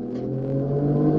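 A car's engine revs up close and loud, a steady rising drone with strong low harmonics over about a second.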